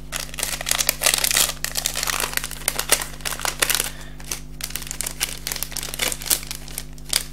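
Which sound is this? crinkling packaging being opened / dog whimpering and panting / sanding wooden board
crinkling packaging being opened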